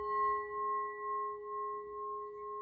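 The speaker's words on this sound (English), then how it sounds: "So this little Tibetan bowl is the heart chakra, and it sounds like this." A small Tibetan singing bowl rings with a sustained, pure, layered tone that pulses gently as it lingers, quiet and alone.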